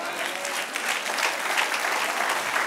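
A church congregation breaks into steady, sustained applause, a dense wash of clapping that holds evenly throughout, with no voices standing out.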